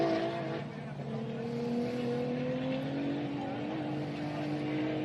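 A race car with a 3.5-litre twin-turbo engine pulls away from the start line at the Gundy 500, its engine note a steady mid-distance drone that holds and rises slightly over a few seconds, with no talk over it.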